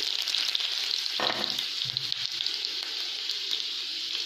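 Steady, close sizzling of two chopped medium chillies frying in hot oil, with a brief stirring clatter partway through.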